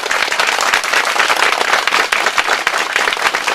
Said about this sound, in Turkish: Ve bu alkışlar devam ediyor Sait Bey'e.